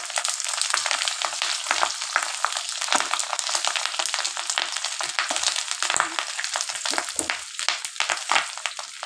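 Fish roe fritters fry in hot oil in a pan, giving a dense steady sizzle with sharp pops and crackles scattered throughout, close and loud, with no talking.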